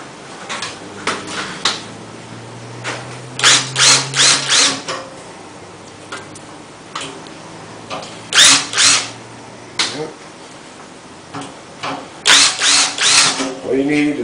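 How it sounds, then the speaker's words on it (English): A power drill whirs in repeated short bursts drilling out rivets on a PC case, several in a row with pauses between, and faint talk and handling noises in the gaps. "Drill out these 4 rivets for the power supply"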